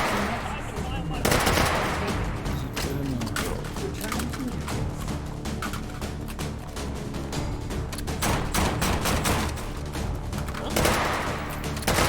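Rapid bursts of AK-12 rifle fire in a competitive first-person shooter match, dense and continuous with sharp repeated cracks, loud and close, some overlapping distant shots, with a voice talking over parts of it.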